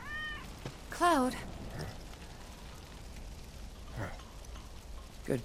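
A cat meows in the video game Final Fantasy 7 Remake, one clear rising-and-falling call near the start with a fainter mew before it, over quiet ambient game sound.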